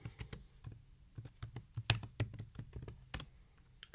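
Keys clacking on a computer keyboard as a command is typed into a terminal, quiet and close, in irregular bursts of taps with brief pauses.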